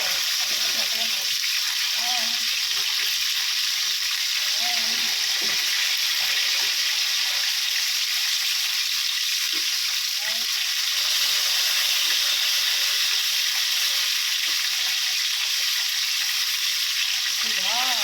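Chicken wings for lemon chicken fry over high heat in a pan, giving a steady, loud broadband sizzle that runs unbroken throughout, with faint voice and kitchen sounds beneath.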